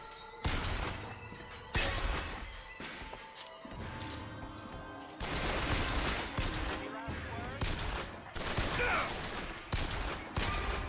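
Turret gunfire in Bioshock Infinite comes in loud, rapid bursts separated by short pauses, mixed with thuds and impacts. No one speaks.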